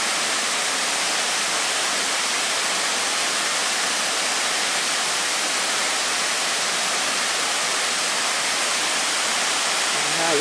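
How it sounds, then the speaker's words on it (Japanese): A stream flowing near an imperial burial mound in the countryside, swollen with water after rain, gives a loud, steady, unbroken rush that fills the whole stretch without pause. "ああ、水の音なかなかいいね。"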